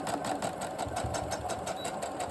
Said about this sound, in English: I sew my first seam backwards